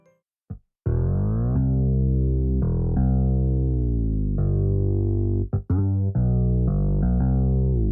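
An electric bass with its low mids boosted around 350 Hz plays a slow line of sustained, thick notes with a full, warm low-mid body, alone and close.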